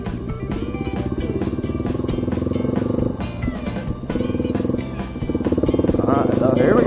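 A motorcycle engine pulls steadily in second gear, its throbbing tone rising and falling with throttle beneath a person talking throughout.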